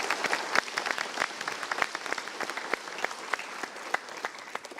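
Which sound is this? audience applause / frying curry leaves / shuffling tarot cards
audience applause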